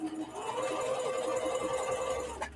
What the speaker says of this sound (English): We're about to sew, and we are just doing the zigzag stitch all the way around